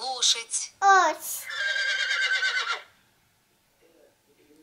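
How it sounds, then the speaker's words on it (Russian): A recorded horse whinnies from a tablet's animal-sounds game in one long, quavering neigh, near and clear, after brief small-child vocal sounds. "Лошадь."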